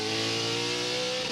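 Touring race car engine held at high revs, around 8,000 rpm, during a Touring Car Masters race at Winton, a loud steady mid-pitched roar with strong harmonics and no talk over it.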